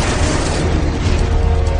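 A meteorite impact explosion effect rumbles as a loud, sustained, dense boom filling the whole clip, with no voices.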